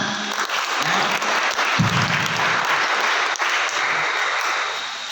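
An audience in a motivational session breaks into clapping, a thick continuous roar of many hands for about five seconds, fairly loud, with a few faint voices and a brief low tone mixed underneath.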